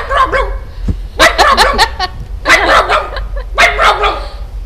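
A man imitates a dog barking in a comedy routine, voicing several rapid clusters of loud, throaty barks and yips up close, with short pauses between bursts.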